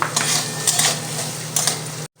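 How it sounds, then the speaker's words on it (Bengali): Carrots fry in oil in a wok, giving a loud, close hiss with rhythmic scraping strokes that stops abruptly just before the end. "ওই কড়ার মধ্যে তেল আছে গাজরটাও ঠিক ওই একইভাবে ভাজবো"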